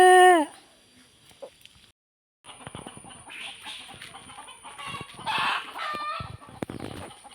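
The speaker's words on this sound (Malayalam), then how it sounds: "ഇവിടെ കോഴികളെവിടെ കോഴിനെയാണ്" Chickens cluck and fuss in short, uneven bursts at fairly close range, with a brief pause near the start; a dog may also be whimpering among them.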